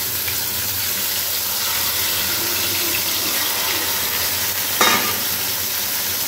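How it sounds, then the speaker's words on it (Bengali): Okra sizzling in hot oil with turmeric in a home kitchen pan, a steady close crackle that runs throughout, with one brief louder burst of spitting near the end. "তো এখন আমি একটুখানি ঢেঁড়স ভেজে দেবো হাজব্যান্ডের জন্য"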